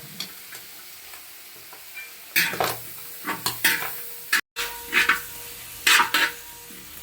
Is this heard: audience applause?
no